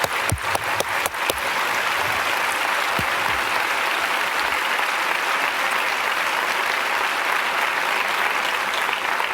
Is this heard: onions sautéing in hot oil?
no